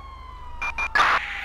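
A police siren from the video game GTA V gives two short bursts, then a longer, louder wail. It is heard alone over quiet game background.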